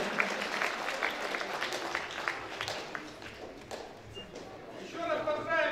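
Parents applauding at a diploma ceremony, a quiet scattered patter of clapping heard from a distance, with faint voices and room noise mixed in.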